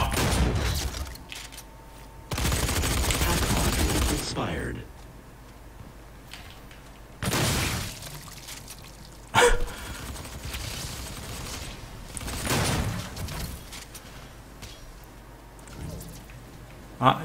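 Shotgun blasts in the 2016 Doom multiplayer beta, several loud separate shots spaced seconds apart amid game noise and a few smaller bangs.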